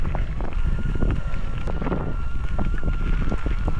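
Strong wind buffeting a cyclist riding in Norway, loud gusty rushing and microphone rumble that pulses unevenly throughout, close and constant with no talk.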